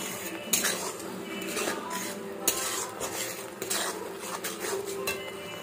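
Metal utensils clatter and scrape against a kadhai (wok) while vegetables are stirred for a home-cooked sabzi, with repeated close knocks and scrapes in an irregular rhythm, and no talking.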